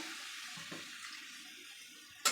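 Water poured from a small bowl into a pot of dal in a home kitchen, a steady close hiss of running liquid with a sharper splash near the end and no talk.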